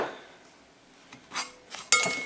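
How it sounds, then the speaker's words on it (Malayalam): Dry semolina is poured into a hot pan in a couple of short rustling bursts, with a light clink of a utensil near the end. "ഞാനിപ്പോൾ ഒരു പാൻ ചൂടാക്കാൻ വെച്ചിട്ടുണ്ട് ഇനി ഇതിലേക്ക് നമുക്ക് റവ ഇട്ട് കൊടുക്കാം"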